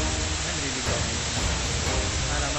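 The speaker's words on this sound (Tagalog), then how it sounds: "Sobrang lakas talaga ng agos." A strong current of rushing water roars at a waterfall, a dense, loud, steady broadband wash close by with no break.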